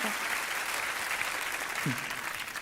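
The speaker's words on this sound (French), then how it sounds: "Il demande les applaudissements, il est content." Audience applause at a comedy-style live show: a steady, dense clapping wash holds for the whole stretch, with a brief voice cutting in near the end.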